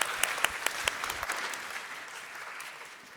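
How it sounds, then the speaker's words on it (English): Applause for a startup company at a crypto pitch competition, beginning with a few sharp claps and swelling into a dense crowd applause that slowly fades away. "Give them a round of applause."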